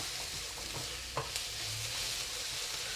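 Onions sizzle and stir-fry in hot oil in a wok, a soft steady hiss with a few light clinks and scrapes of stirring, quiet and close, with no voices.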